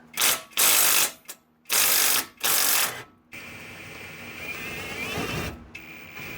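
A 15mm socket on a ratchet works a Jeep's driver's side mount bolt with a flag nut, giving several bursts of rapid clicking before a quieter, lower mechanical grind takes over.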